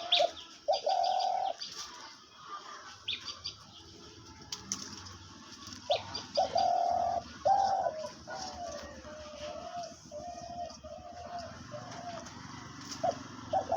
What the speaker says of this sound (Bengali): সবসময় ডাকতে থাকে দেখেন সব সময় অল টাইম ডাকবে